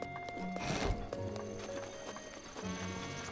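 A donkey in Zelda: Breath of the Wild clip-clops and whinnies, quiet game hoof steps with a short bray-like call amid soft background music.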